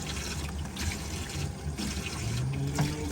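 Water splashing in a tub/shower, a steady trickling, splashing wash that runs on without a break at moderate level.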